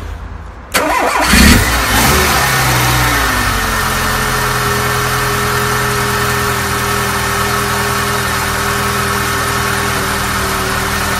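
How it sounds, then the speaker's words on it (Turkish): A Tofaş car fitted with new iridium spark plugs cranks briefly and catches, then settles into a steady, close, loud idle with a constant engine drone that holds to the end. "Dilerseniz beraber bir marşına basalım aracın."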